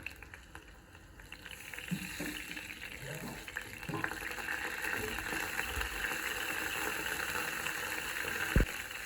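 Water poured into a hot mustard-seed and curry-leaf tempering, building from a low spatter into a steady loud bubbling hiss, with a sharp knock near the end and no one speaking.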